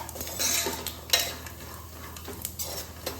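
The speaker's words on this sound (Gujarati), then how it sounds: "આપણે એને 2 થી 3 મિનિટ સુધી હલાવીને તેલ સાથે શેકાવા દીધી છે" A spoon stirs pieces of mung dal vadi frying in oil in a pan, with a few close scrapes and clinks against the metal over a faint sizzle.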